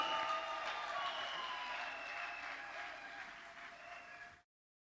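A crowd applauding in a church, a dense wash of clapping at a moderate distance that holds steady for about four seconds with faint voices and a tonal hum mixed in, then cuts off abruptly.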